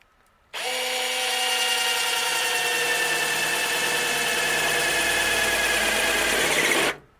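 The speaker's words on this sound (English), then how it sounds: "we got to drill a hole for the wires to go through" A power drill bores a hole through the body of a 1981 Datsun 210, a steady, loud, high whine that starts abruptly, holds for about six seconds close up and then cuts off.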